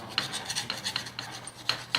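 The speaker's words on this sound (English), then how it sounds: "when you file the connectors" Brass plumbing connectors from a stainless flexible hose being filed, giving repeated close, bright rasping strokes in an uneven rhythm with no talk.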